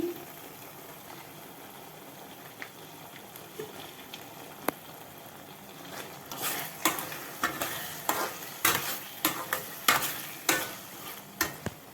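Bread halwa being stirred in a pan after ghee is poured in, quiet at first, then a rising series of sharp scraping stir strokes over a soft sizzle, close by, without speech.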